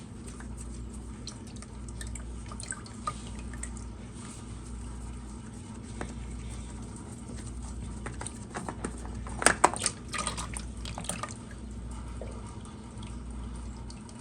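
Engine oil drips from a 2002–2003 Yamaha R1 motorcycle into a drain pan: faint irregular patters and small splashes over a steady low hum, with a brief cluster of louder drips midway.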